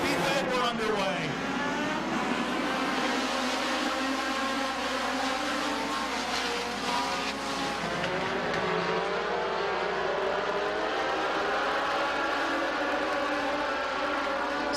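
Legend Car race cars roaring around Midvale Speedway during a 30-lap feature at night, a steady distant engine drone with passing swells, under continuous announcer commentary.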